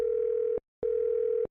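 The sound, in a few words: telephone dial tone as a call is placed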